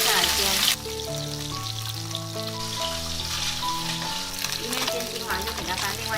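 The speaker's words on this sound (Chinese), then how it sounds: "油温热了，把鱼菜放下来煎" Marinated fish pieces pan-fry in oil in a flat pan, a continuous crackling sizzle heard under prominent background music.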